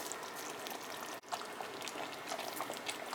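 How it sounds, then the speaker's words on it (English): Cooked steak going into a pot of sauce while making a cheese steak sandwich, giving faint, soft wet splashing and bubbling noise that runs steadily with one brief break partway through. "And I'll add the rest of the steak in here."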